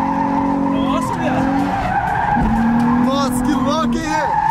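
A Nissan 350Z does a handbrake drift with loud, wavering tire squeals over a roaring engine, close and continuous, while excited voices talk and shout throughout.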